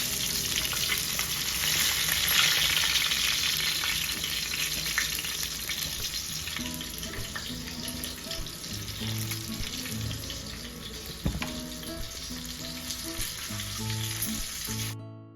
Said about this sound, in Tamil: அழகான மீன் வறுத்துருக்குறோம் நம்ம.